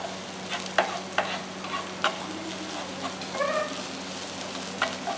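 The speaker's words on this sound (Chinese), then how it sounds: "炒一炒，" Scallions being stir-fried in a wok, a continuous sizzle broken by sharp clicks and scrapes of the spatula against the metal at irregular intervals, close and moderately loud.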